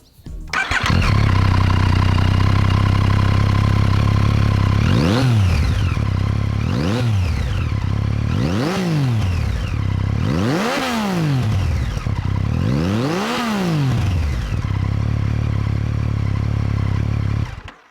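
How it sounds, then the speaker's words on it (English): Yamaha XSR900 with its CP3 three-cylinder engine, loud and close, idling then revved in four or five sharp rising-and-falling bursts that burble and crackle before settling back to a steady idle. "as the engine burbles its way back to idle"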